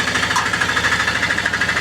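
Close, loud CNG auto-rickshaw engine idling with a fast, steady knocking rattle throughout.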